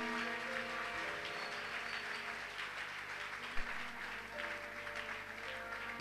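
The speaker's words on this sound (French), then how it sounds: "Est-ce qu'on peut acclamer le Seigneur?" A church congregation applauding during a worship service, steady broadband clapping that sustains for several seconds at moderate volume, with a faint murmur of voices underneath.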